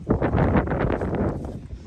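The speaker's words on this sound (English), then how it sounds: "it's pretty windy out here." Low, steady rumble of wind buffeting the microphone, constant and blustery throughout the short stretch.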